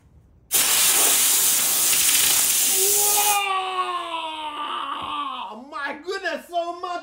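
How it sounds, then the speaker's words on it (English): Compressed air bursts out of a pipe in a loud, steady hiss that stops after about three seconds, and a voice follows in its wake. "Now let's blow out the compressed air."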